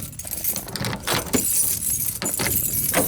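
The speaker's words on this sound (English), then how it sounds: "I have way too many keys here." A large bunch of keys jangles and clinks close by in several metallic bursts, heard outdoors in cold weather beside a Cummins truck.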